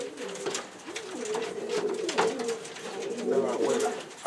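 Pigeons cooing close by in a breeding loft, repeated soft throaty rolling coos with faint voices in the background.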